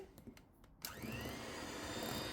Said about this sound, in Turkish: Kremamı çırpıyorum.